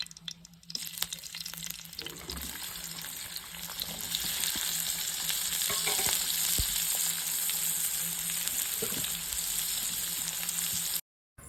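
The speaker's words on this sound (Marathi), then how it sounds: "तेल छान गरम झालं की त्यामध्ये कांदा टमॅटो टाकलेला आहे" Chopped onion and tomato sizzle in hot oil, a steady close crackling hiss that runs almost unbroken, with a few stirring scrapes and no voices.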